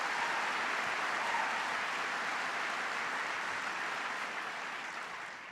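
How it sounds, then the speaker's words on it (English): Audience applause fills a speech event hall, a dense, steady wash of clapping heard from a distance that tapers slightly toward the end, with no voices over it. "Please give Mike a big round of applause."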